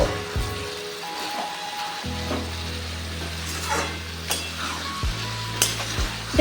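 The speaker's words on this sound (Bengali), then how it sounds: "এটা খুব ভালোভাবে মশলাটা সবজিটার সাথে আমি নেড়ে চেড়ে কষিয়ে নেব" Mixed vegetables with spices and green and red chillies being stir-fried, a soft sizzle broken by scraping stirs and light clinks of a spoon against the pan, with a low steady hum beneath.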